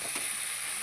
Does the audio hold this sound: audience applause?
no